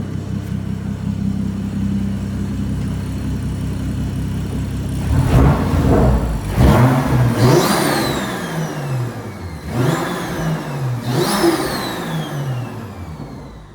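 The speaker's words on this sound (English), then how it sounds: "Talk about how fast this thing revs up with a lightweight flywheel in it is just insane." A tuned car engine with a lightweight flywheel idles, then revs sharply several times in quick bursts, each climbing and falling back, loud and close with no talking.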